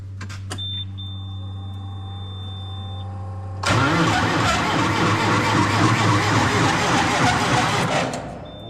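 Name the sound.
forklift engine starting in cold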